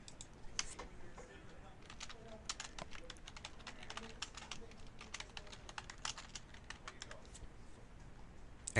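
Typing a file name on a computer keyboard: quick, faint, irregular key clicks in close succession over a quiet background, in several short bursts.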